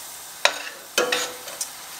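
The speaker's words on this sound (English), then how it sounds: "And saute this for maybe a good 3 to 5 minutes." Ingredients for a Cambodian hot pot are sautéed in a pan, with a low steady sizzle broken by two distinct scraping stir strokes and a lighter one after, close and fairly quiet.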